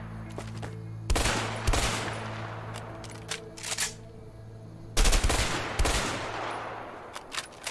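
Guns firing in the video game A Way Out, loud single shots and short bursts with echoing tails spaced across the clip, at close range and without talk.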